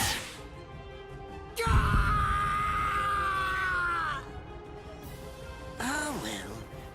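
A man's drawn-out pained scream in a Bleach: Rebirth of Souls video game cutscene, loud and sustained for about two seconds over rumbling background sound, followed by a shorter strained cry.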